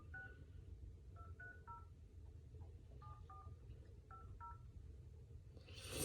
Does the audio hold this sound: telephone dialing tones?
yes